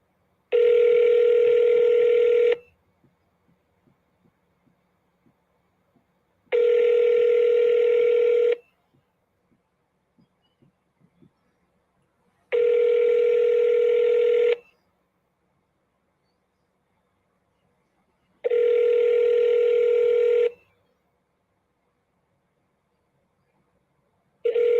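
A telephone rings four times on a call to a prosecutor's office, each long, steady electronic ring followed by an equal silence, loud and alone with faint clicks between rings.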